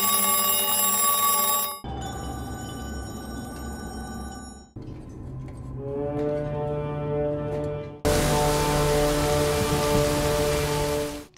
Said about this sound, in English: The sound of a phone ringing also holds significance.